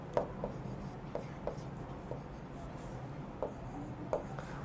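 Pen writing a word on paper, several short scratchy strokes separated by brief pauses, close and fairly quiet over faint room noise.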